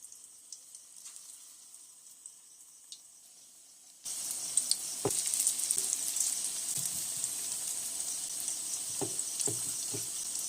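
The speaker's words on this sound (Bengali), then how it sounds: "আমি বড়াটা ভেজে নিই" Bora fritters frying in a pan in a home kitchen, starting as a quiet hiss and then swelling into a steady loud sizzle with a few light clinks and scrapes.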